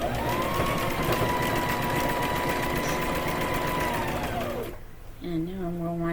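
A sewing machine back stitching a quillow runs loud and steady for about four and a half seconds, then stops, followed by a short mechanical whir.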